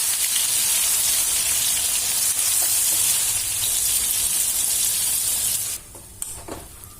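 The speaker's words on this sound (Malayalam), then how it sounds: "സോയ നമുക്ക് വറുത്തെടുക്കാം." Soya chunks sizzle loudly and steadily in hot refined oil in a wok while being fried for a biryani. The frying hiss fills most of the stretch, then drops off sharply near the end, leaving a few faint clinks.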